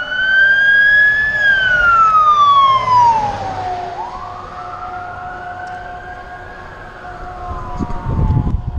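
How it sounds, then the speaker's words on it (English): Loud wailing sirens of ambulances, a fire marshal vehicle and a police car sweep past up close heading up a mountain, pitch dropping as they go by, then fading off with engine rumble. "Ambulances and like a fire marshal and a police car just went up the mountain as well."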